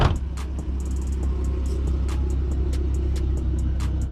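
A car idles and rumbles steadily nearby, its low engine drone continuous throughout, with a few faint clicks and ticks on top as a woman gets ready to drive it away.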